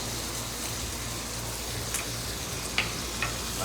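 Onions and garlic on a Blackstone griddle give a steady, dense sizzle like hard rain, close and even, with a couple of faint clinks and no voices.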